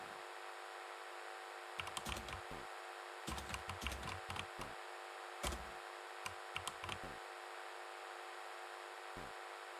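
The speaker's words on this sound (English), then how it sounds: "I can't type that fast, actually." Rapid bursts of computer keyboard typing during a typing video game, clicking in quick irregular clusters separated by short pauses, fairly quiet and close over a steady background hiss.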